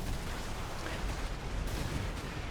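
Laser cannons firing in the mech combat game Armored Core 6 during a PvP tournament match, a continuous dense crackling barrage of blasts at moderate level with no break and no voices.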